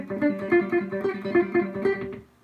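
Electric guitar with effects playing a quick G blues scale riff in a rock soloing context, a steady run of clear plucked notes with a bright, slightly processed tone, fairly quiet and alone.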